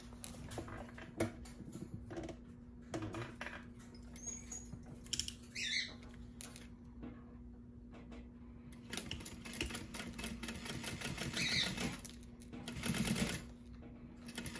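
Sewing machine top stitching vinyl on a crossbody bag, heard as a faint, quick mechanical patter with uneven bursts over a steady low hum.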